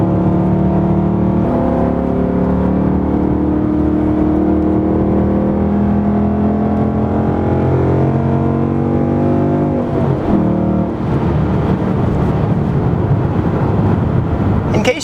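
A 2016 Ford Mustang GT engine drones steadily and loud through corners, its pitch rising and falling as the car pulls between bends, with a brief rougher patch near the end.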